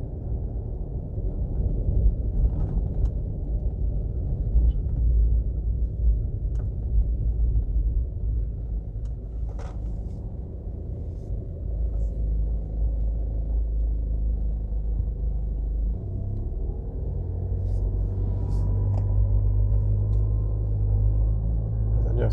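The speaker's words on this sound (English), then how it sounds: "We're driving towards the Sangster International Airport." A car drives at night through Montego Bay, Jamaica, toward the airport, heard from inside as a steady low engine and road rumble with faint clicks and rattles throughout.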